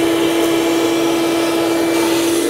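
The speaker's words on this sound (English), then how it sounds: "Use a vacuum cleaner or whatever you've got." A vacuum cleaner runs loud and steady, clearing debris from around the spark plug ports on a GMC Acadia engine, its constant whining drone with a strong tonal hum and no voices.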